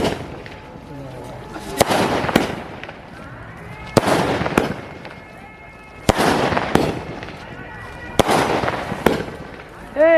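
Fireworks at a wedding go off in about five sharp, loud bangs spaced roughly two seconds apart, some of them misfiring, with crackling tails and voices talking in between.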